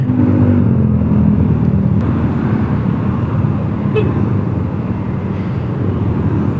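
Rush-hour traffic jam on Jalan Tunjungan at dusk, heard from a motorcycle: a dense, steady roar of engines close by, with a short car horn toot near the start.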